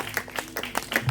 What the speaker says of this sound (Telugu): గట్టిగా చప్పట్లు కొట్టేసాను కదా